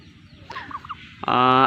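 Medium-sized turkey chicks give a few soft peeping clucks, then one bird lets out a louder, sustained call close by.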